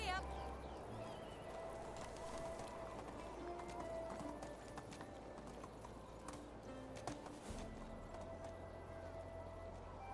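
Horse galloping in the medieval survival game Medieval Dynasty, rapid hoofbeats and a whinny over a low rumbling bed, with a rider talking across it.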